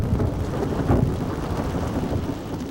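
Steady rain pours in the Northwest with deep rumbling thunder, loud and continuous, with a swell partway through.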